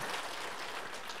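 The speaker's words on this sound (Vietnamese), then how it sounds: "Cho con tràng pháo tay lớn đi, giỏi." A room of listeners at a Vietnamese Buddhist teaching session breaks into a big round of applause for a student, a dense, steady patter of many hands filling the short moment with no talk.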